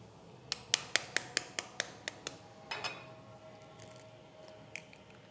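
A utensil mixes pie dough with powdered sugar and egg yolk in a bowl, giving about eight quick, evenly spaced clinks followed by a soft squish. The sounds are close but quiet, with no talking.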